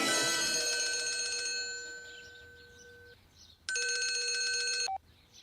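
Old telephone bell ringing in a Bollywood film scene, a loud metallic ring that decays, then a second clear burst of ringing that cuts off abruptly, with no voices.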